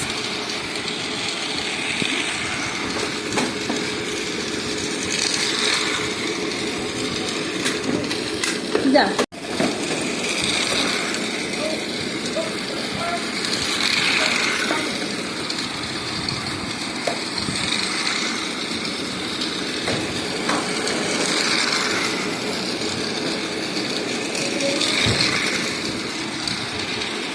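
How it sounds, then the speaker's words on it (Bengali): A steady whirring rumble of a small Rajdhani Express toy train running continuously, with faint clicks and a brief clatter partway through. "তা এখন ওই ট্রেনটা চালিয়ে দিয়েছি।"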